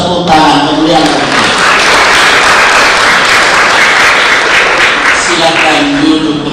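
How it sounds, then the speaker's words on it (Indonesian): A church congregation at an Ascension Day service applauds in praise, a loud, continuous wash of clapping with voices audible over it. "Kita beri hapus tepuk tangan kemuliaan."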